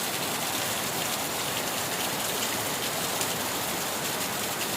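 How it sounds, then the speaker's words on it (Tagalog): Dense, steady roar of heavy rain from a tropical storm pouring down without a break, loud and even throughout, no voices. "ang lakas ng ulan"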